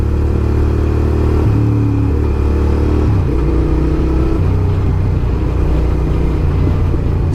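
A motorcycle engine rumbles loudly and steadily while filtering through London traffic, its pitch stepping up and down with short revs, close and continuous with no talk.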